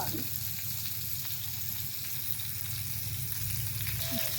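Three mackerel fish frying in oil in a pan, giving a steady, dense sizzle that holds evenly throughout, close and moderately loud with no voices.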